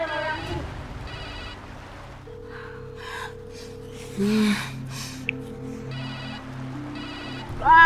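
Outgoing phone call on a mobile, repeated bursts of electronic ringing tone with steady pauses between them, close and clear, with a brief gasp-like vocal sound partway through.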